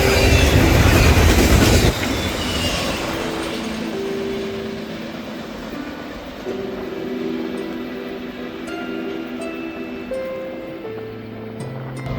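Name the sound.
eastbound intermodal freight train led by a GMD locomotive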